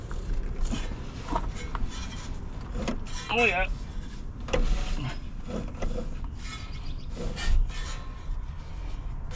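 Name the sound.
turning over 1963 Plymouth Belvedere engine by hand via fan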